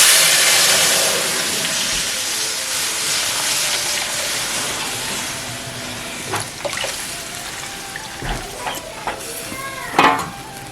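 A curd and curry-leaf mixture poured into a hot pan for kadhi hisses loudly at first, then settles into a steady, softer sizzle with scattered clinks and scraping stirs near the end.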